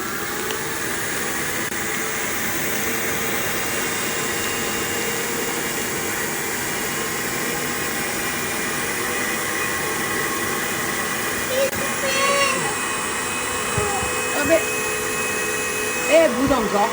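A vacuum cleaner drones steadily and loudly throughout as it sucks air from a compression storage bag, a constant airy roar with slight shifts in pitch near the end.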